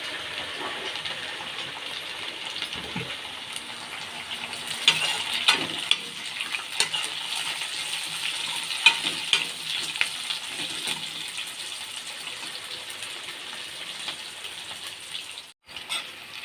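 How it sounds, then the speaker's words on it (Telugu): Onions and five green chilies frying in a pan until golden, a continuous moderate sizzle with intermittent stirring scrapes and clatters, ending with a short dip in the sound. "ఉల్లిగడ్డ ఏరుకు వచ్చిందాక, కలర్ వచ్చిందాక, గోల్డ్ కలర్ వచ్చిందాక వేపుకోవాలి."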